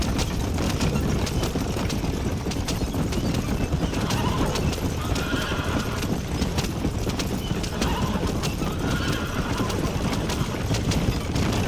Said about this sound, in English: O cavalo ele é muito louco, hein?